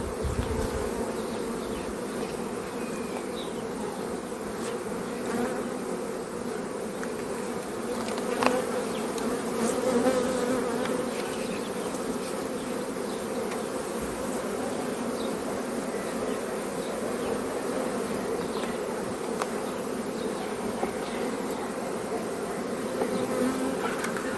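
A dense, steady hum of many honey bees fills an apiary, constant and close throughout, with occasional single bees buzzing nearer for a moment.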